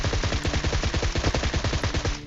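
Rapid automatic gunfire in the mobile battle-royale game PUBG Mobile, a steady, loud stream of closely spaced shots running through the whole stretch with no talking.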